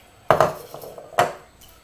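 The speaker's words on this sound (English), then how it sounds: "I can take my whisk and mash my butter up to get it ready to mix." Butter being mashed with a metal whisk in a bowl while baking blueberry banana bread: two sharp clanking strikes of metal against the bowl, then a lingering scrape, close and fairly loud.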